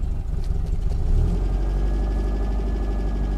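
A warm FSO Polonez engine idles with the choke pulled out slightly, giving a steady, continuous low rumble that holds even throughout.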